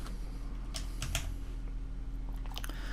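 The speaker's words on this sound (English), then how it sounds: "Let's try typing in a value." Someone types a value on a computer keyboard while editing a website. A few sparse, soft key clicks sit over a steady low hum, with no talking.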